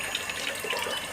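Sewer water pours out in a steady, hissing gush, moderately close and fairly quiet, with no talking over it.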